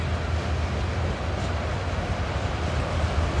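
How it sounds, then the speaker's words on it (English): A northwest-bound train crosses a rock viaduct at a power plant, giving a steady, close, heavy rolling rumble that does not let up, with no talk. "This train is headed northwest."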